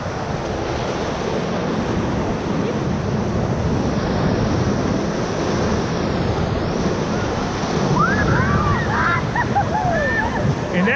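Whitewater of the Diamond Splitter rapid on the Ocoee River roars as a continuous broadband rush around a raft, with scattered excited shouts rising near the end.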